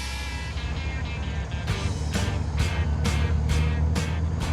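A 1961 classic car rumbling along in traffic, its low engine drone steady beneath a series of sharp rhythmic clicks or taps, heard from inside or close by with no talking.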